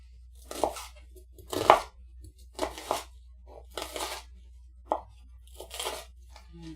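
Knife slicing two shallots lengthwise on a board for a shrimp and corn dish, with about seven separate crisp chopping strikes spaced unevenly, close and moderately loud, no talking.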